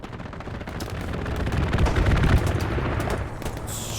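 A strafing run of rapid gunfire in a competitive real-time strategy match, a dense rumbling roll of shots swelling in the middle and easing off toward the end, loud and close.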